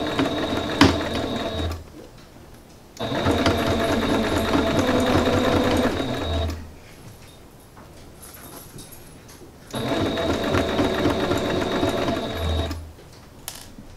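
A sewing machine stitches decorative trim onto fabric for a towel apron in loud bursts of steady mechanical whirring, three runs of a few seconds each separated by quieter pauses.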